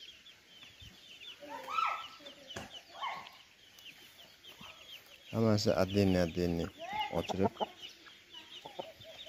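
Chickens and a rooster clucking and calling in a farmyard, busy and fairly close, with someone talking over and between the bird sounds and a steady high background hiss.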